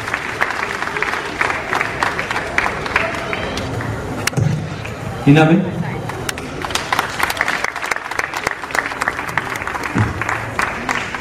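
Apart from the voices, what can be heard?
crowd clapping at public meeting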